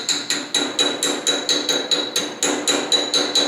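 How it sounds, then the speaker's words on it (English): A hammer gingerly taps around a wheel bearing dust cap to seat it, giving a quick, even series of about a dozen sharp, ringing metallic taps, close and clear with no talk. "you just put your dust cap back on and just gingerly tap around"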